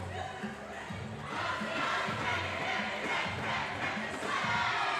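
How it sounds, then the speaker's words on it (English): Crowd chanting at the Trop Cup 2025 tournament, a loud rhythmic mass of voices in repeated bursts that build slightly toward the end. "I'm intently listening on Richter's chant here"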